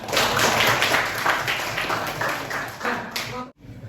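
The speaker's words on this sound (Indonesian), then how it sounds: "Bagus, tepuk tangan." Students in a classroom clap their hands together in a dense burst of overlapping claps that runs steadily for several seconds, loud and close, then stops abruptly.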